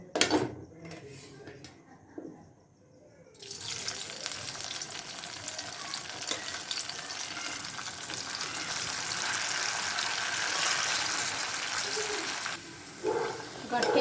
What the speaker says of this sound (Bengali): এবার এর মধ্যে আমি কেটে রাখা গাঠেগুলো অল্প অল্প করে দিয়ে ভেজে নেব